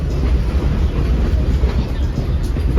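A heritage railway train on the Missionary Ridge local, with steam and diesel power and vintage passenger cars, rumbles and clatters steadily over a railway bridge, heard loud and close from on board.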